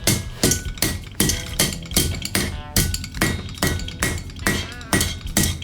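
A hammer strikes steel while a knife is forged, landing loud, ringing metallic blows in a steady rhythm of roughly two per second, close by and with no voices over them.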